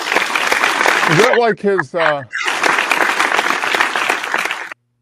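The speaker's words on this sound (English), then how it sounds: "We gotta give a round of applause for the scene." Loud, dense clapping from a group fills the space, broken briefly by a voice speaking, then the applause resumes strongly and stops abruptly.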